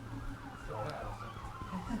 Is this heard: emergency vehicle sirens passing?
yes